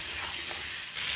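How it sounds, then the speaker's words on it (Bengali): Amla, Indian gooseberries, frying lightly in a pan while being stirred, giving a steady, close broadband sizzle that fills the short moment with no voices. "হালকা নাড়াচাড়া করে আমলকিগুলোকে ভেজে নিতে হবে"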